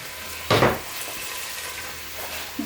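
Vegetable okro soup stirred in a pot: one clear scrape and swish of the spoon, then a soft simmering bubble with faint clinks.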